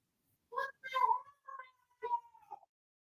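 A house cat meows four or five times close by, drawn-out plaintive calls with short gaps between them in an otherwise quiet room.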